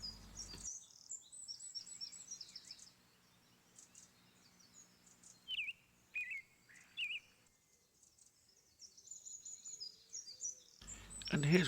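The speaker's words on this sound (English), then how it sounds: "Nice to hear the birds singing," Birds singing outdoors, several clear chirps and short trills at moderate distance over a quiet background, with brief bursts of close scraping at the start and end.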